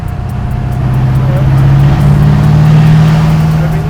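A 1970 Chevelle with a twin-turbo Duramax diesel pulling hard in fourth gear, a loud, deep, steady engine drone rising gradually in pitch, heard from inside the car with a faint whine above.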